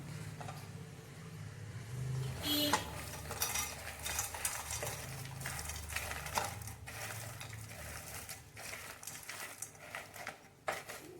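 Grated coconut and dried anchovies are dry-roasted in a pan for a chutney, with repeated scraping and stirring strokes and light crackling, close and fairly quiet.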